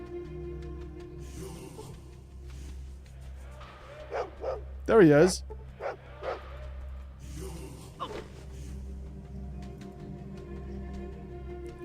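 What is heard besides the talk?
dog barking in Fallout 2 video game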